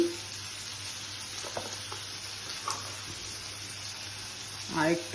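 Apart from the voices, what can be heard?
cumin and coriander powder frying in oil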